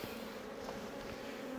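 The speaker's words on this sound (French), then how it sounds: "Allez hop, j'enlève les abeilles." Honey bees buzz steadily around an open hive frame being worked by a beekeeper in July, a close, continuous drone that holds level throughout with no talk.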